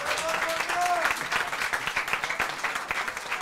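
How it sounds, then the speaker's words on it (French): An audience applauds at an evening awards show in France, a steady wash of clapping at moderate level with a voice speaking over it. "je demande à notre marraine Blandine Métayer, qu'on applaudit bien fort"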